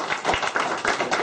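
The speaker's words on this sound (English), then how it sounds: "I think we ought to give them a round of applause." A small meeting audience gives a round of applause, a brief burst of close, dense clapping with no talk.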